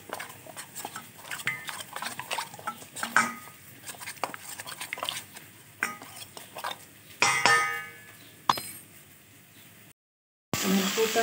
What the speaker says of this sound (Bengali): দিয়ে এখন এটা গুলিয়ে নেব।